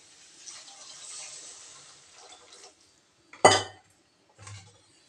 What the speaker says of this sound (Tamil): இப்போ இதில் தேவையான அளவுக்கு நம்ம தண்ணி ஊற்றி குக் பண்ணிக்கலாம்